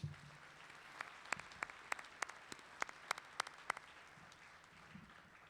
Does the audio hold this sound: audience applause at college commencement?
yes